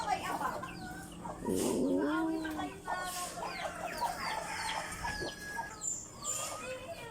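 Chicks and chickens cluck and peep steadily, fairly close, in a peaceful rural setting, with a brief rooster-like call and faint background voices.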